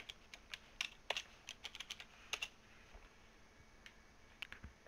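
Quiet typing on a computer keyboard, a quick irregular run of light clicks with short pauses between them, heard alone.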